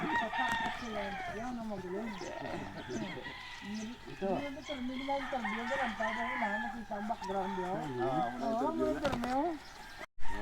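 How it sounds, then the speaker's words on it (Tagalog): Roosters crow and chickens cluck throughout, with a person talking over the birds for most of the stretch. "Grabe ganyan ang mga breeds ng mga manok ni Sir Wancho gini."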